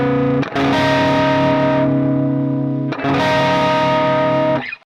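A distorted electric guitar rings out two long sustained sus2 chords, major 7 sus2 then dominant 7 sus2, each strummed once and left to sustain with a thick, saturated tone, no talking.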